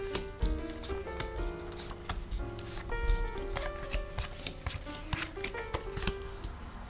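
Cards are laid out one by one on a table for a card reading. Soft, crisp slaps and slides of the cards come in an irregular rhythm, close but faint, over gentle background music.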